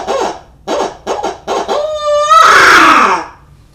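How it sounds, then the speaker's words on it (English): Owl locator call blown by mouth in a hooting who-cooks-for-you cadence: four short breathy hoots, then a rising tongue-rolled wavering hoot ending in a loud, harsh, trailing screech. "You just simply blow into the call, and the cadence that they tell you to use on an owl call is who cooks for you"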